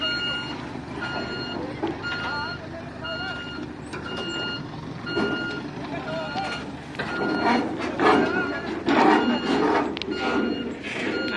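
Large trucks delivering railway sleepers, their reversing alarms beeping in a steady repeating pattern over engine rumble, with people talking nearby.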